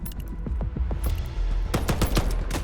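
Rapid bursts of pistol gunfire in the online shooter Veiled Experts, a string of sharp, loud shots fired in quick succession over a steady game background, with a second volley near the end.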